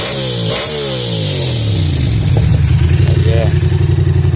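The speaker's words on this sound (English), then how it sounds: "Give it a few revs." Yamaha R7 motorcycle engine revving close by, several sharp blips rising and falling before settling into a loud, throbbing idle, with a voice speaking briefly over it.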